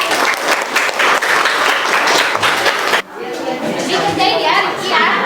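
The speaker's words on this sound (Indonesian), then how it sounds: "Kasih tepuk tangan dulu buat Nadia dan Rizky ya." Classroom applause from students for Nadia and Rizky, lively clapping with children's voices, briefly dipping then resuming with chatter.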